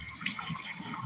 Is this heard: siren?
no